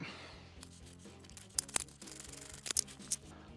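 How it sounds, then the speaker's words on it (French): Front exhaust clamp on a Royal Enfield Meteor 350 being loosened with a 12 mm wrench: a quiet, close series of sharp metallic clicks and small scrapes, irregular and without talk. "Donc on va procéder au desserrage du collier à l'avant."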